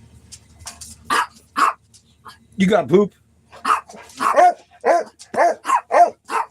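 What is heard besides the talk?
dogs barking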